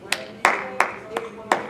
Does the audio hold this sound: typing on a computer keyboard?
no